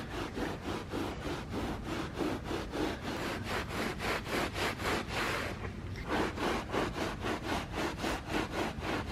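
Stain remover being rubbed into a carpet, a steady rapid back-and-forth scrubbing rhythm, close and continuous with a brief pause near the middle.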